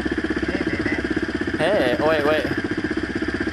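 A dirt bike exhaust idles with a rapid, steady pulsing thump, close and loud, while a person speaks briefly over the engine.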